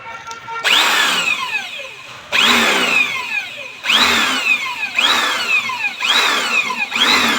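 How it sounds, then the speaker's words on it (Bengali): A power drill bores holes for mounting the number plate on an e-rickshaw, heard as five close, loud bursts of whining, rising motor pitch separated by brief pauses. "এখানে ড্রিল মেশিন দিয়ে ফুটো করা হচ্ছে"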